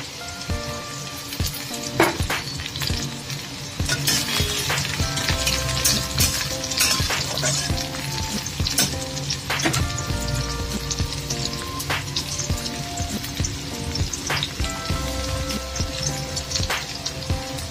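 Chopped onion and green chillies frying in oil in a hot wok, a loud continuous sizzle close by, dotted with sharp pops and spatters and occasional scraping stirs throughout.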